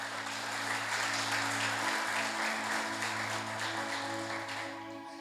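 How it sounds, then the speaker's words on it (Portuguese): A church congregation claps together in sustained, dense applause, loud and steady for several seconds and fading slightly at the end, with a low musical hum underneath. "Então aplauda bem forte ao Senhor Jesus."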